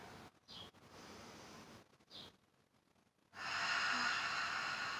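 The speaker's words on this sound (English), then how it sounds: "Listen to the sound of your breathing." Slow, deep breaths drawn in and out through the nose during a children's yoga session, soft, airy puffs with quiet gaps between them, and then a longer and louder exhale at the end.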